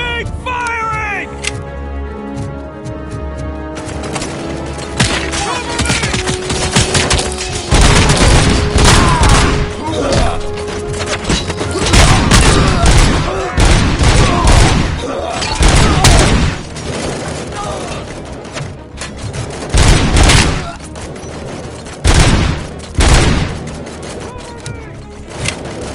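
Sustained gunfire fills a Robocop: Rogue City firefight, with dense, rapid volleys and sharp cracks. The shooting is loud and continuous, stacked over a pulsing backdrop of game sound.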